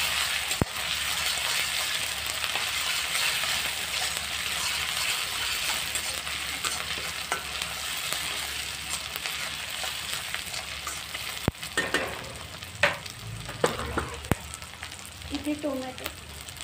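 Chopped onion fries in a pan with a steady, bright sizzle throughout, close and fairly loud, joined later by a few sharp clinks and scraping stirs.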